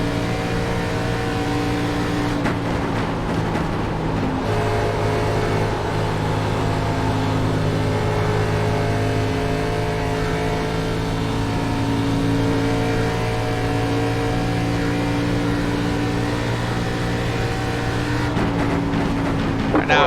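Race car engine in the iRacing sim game, a sustained droning engine tone holding steady revs for about twenty seconds, with brief shifts in pitch, loud and close, with no talk over it.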